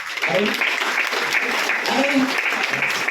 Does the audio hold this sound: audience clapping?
yes